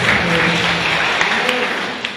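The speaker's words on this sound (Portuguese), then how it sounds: "Vamos aplaudir o Senhor Jesus" A church congregation at a morning worship service applauds, a broad wash of clapping filling the room with a low murmur of voices underneath, tapering slightly toward the end.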